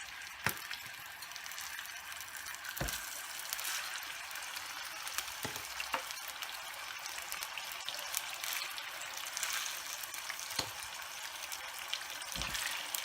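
Carp fish pieces frying in hot oil, a steady broadband sizzle throughout with occasional sharp pops and spatters, close and moderately loud with no talking.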